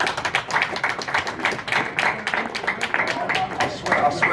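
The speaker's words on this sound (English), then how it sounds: "we got to give Mr. Eddie Hearn a match from a round of applause for tonight" Crowd applause for promoter Eddie Hearn at a heavyweight boxing event, a dense patter of clapping over a continuous bed of talking voices.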